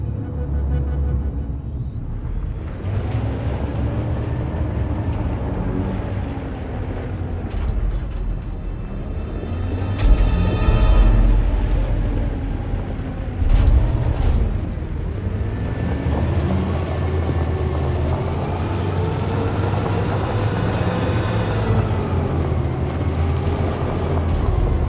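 A heavy truck engine in the video game Detroit: Become Human, Capitol Park, rumbles steadily for the whole stretch, with rising revs and a couple of sharp hissing bursts like air brakes releasing, loud and close.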